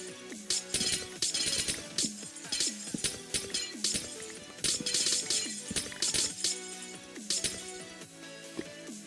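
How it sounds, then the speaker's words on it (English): Glass blocks shatter over and over in Minecraft on the Mineplex server, a quick run of bright crisp breaking crashes following one another near and clear, with no talk. "Breaking glass is such a satisfying noise though."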